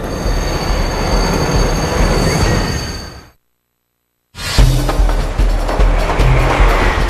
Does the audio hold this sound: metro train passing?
yes